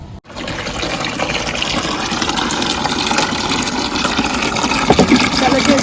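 Water running and splashing over mangoes being washed outdoors in a park before pickling, a steady broadband gush throughout with a few clattering knocks near the end.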